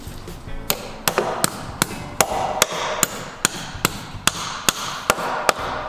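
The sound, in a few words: hammer tapping anchor bolts for garden shed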